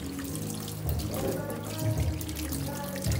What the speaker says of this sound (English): So we're gonna wash all the dirt off the potatoes first before peeling them.